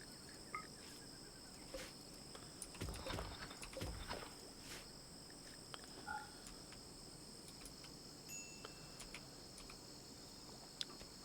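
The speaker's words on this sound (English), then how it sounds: "The cricket noises are honestly a little on the loud side for my liking." Steady cricket chirping from the video game RimWorld, a dense continuous high trill running throughout at fairly loud level, with a few brief soft clicks and footstep-like taps mixed in.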